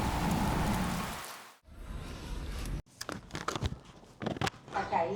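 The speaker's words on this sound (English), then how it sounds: "the rain hit. A real downpour." A heavy rainy-season downpour in northern Nicaragua pours as a dense, loud hiss, then cuts off abruptly and gives way to scattered sharp patters and knocks.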